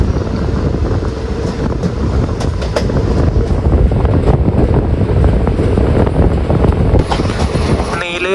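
A passenger train runs along the Kerala railway line near Nileshwaram station, a loud, steady rumble of wheels and carriages with faint rhythmic clatter that carries on for the whole stretch, wind buffeting the microphone.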